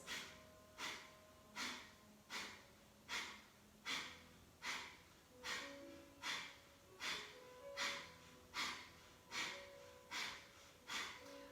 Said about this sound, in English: do a little fire breath while we're here